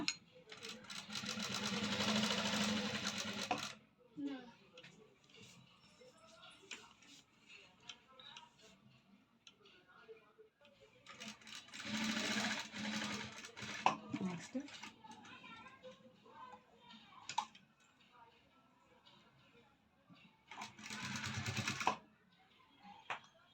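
A sewing machine stitching a cross-cut blouse runs in three loud, dense bursts with quieter gaps of handling and faint ticking between them.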